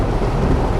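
Heavy rain pounds a Toyota Raize as it drives through flooded streets during a downpour in Bandung, a dense, steady, close roar of water on the car with no talking.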